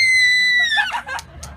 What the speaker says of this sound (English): She screams loud and long.